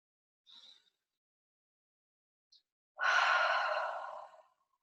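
A faint breath is followed by a long, deep, audible exhalation, close and clear, during a seated energy-balancing routine with hands on the forehead and navel.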